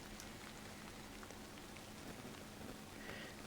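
Rain in the visual novel Hashihime of the Old Book Town, a quiet, even patter of drops falling steadily on a surface, soft and continuous with no voices.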